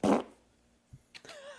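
A short, loud fart bursts out at the start and fades quickly, followed by a couple of faint, brief rustles.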